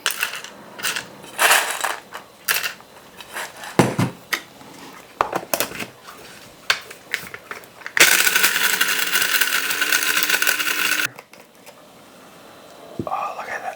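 Smoked, dehydrated garlic is ground into powder: scattered crunching clicks and bursts lead into a loud, steady grinding roar lasting a few seconds, then it cuts off to quiet.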